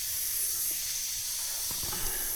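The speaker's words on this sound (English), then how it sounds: "It's not supposed to be spraying out there." A steady hiss of water spraying under pressure from a leaking greenhouse irrigation line, continuous and fairly quiet, with a few faint knocks in the background.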